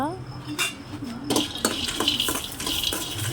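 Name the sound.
roasting peanuts in a kadai (wok)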